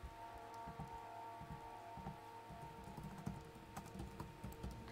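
Quiet clicking of a computer keyboard as someone types a search, set against rain-like ambience from a Silent Hill: Downpour game session.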